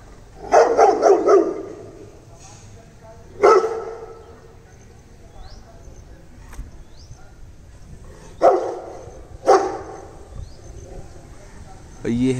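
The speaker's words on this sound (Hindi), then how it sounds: "मालूम नहीं किसे भौंक रहा है वो," A dog barks in short bursts from nearby at a home, with a cluster of barks early on and single barks spaced later, while birds chirp faintly in the background.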